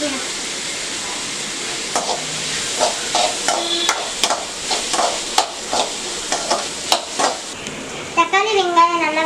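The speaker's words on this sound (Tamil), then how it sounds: "தக்காளி வெங்காயம் நல்லா வதங்கிடுச்சு." Tomatoes and onions sizzle steadily in a hot pan while being sautéed for prawn thokku. A spoon stirs and scrapes the pan in repeated knocks, and a voice speaks briefly toward the end.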